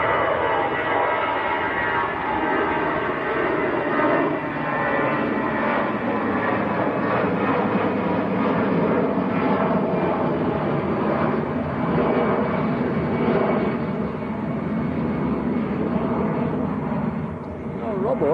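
A Lufthansa airliner bound for Frankfurt at Manchester Airport gives a continuous broad jet engine roar that holds steady throughout.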